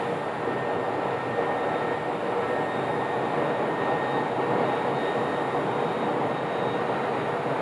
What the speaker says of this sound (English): Now this is an older Airbus A321, not a new one.